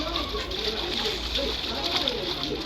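Splashing and sloshing as people wade into water outdoors, continuous wet churning close by with faint voices in the background.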